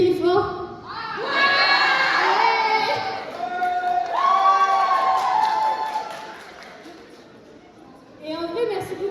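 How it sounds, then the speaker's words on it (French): A school audience of pupils gathered for a back-to-school event shouts and cheers loudly in a sustained roar that swells twice, fades, then rises again briefly at the end. "Est-ce que vous pouvez genre crier fort?"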